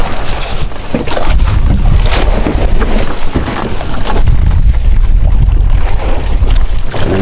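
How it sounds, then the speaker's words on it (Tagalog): Boats on the Pacific Ocean at a fishing spot, heard as loud continuous rumbling engine noise mixed with heavy wind buffeting the microphone and washing sea sounds, with no talking. "Nandiyan guys, so mga bangka yan"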